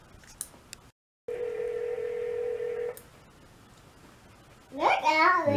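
Telephone dialing tones: a few short tone bursts, then one sustained steady tone lasting nearly two seconds, followed by quiet and then a voice babbling at the end.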